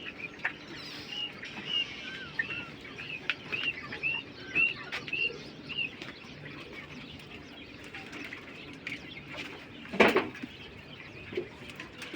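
King quail on a farm call with repeated short chirps and soft cooing over a low background hum, mostly faint and at a moderate distance, with one louder burst of calling near the end.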